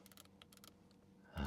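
A scroll wheel in an Audi RS5 clicks in a quick run of crisp, light detents up close, ending as a louder sound cuts in.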